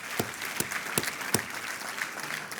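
French-speaking church congregation applauds in praise during a Sunday service, a soft, diffuse wash of clapping with a few sharper, louder claps standing out near the front, continuing evenly throughout.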